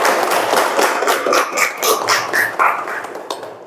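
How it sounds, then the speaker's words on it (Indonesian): Classroom applause for a student, a quick burst of clapping mixed with excited children's voices, lively and close throughout with a slight fade at the end. "tepuk tangan untuk Satya"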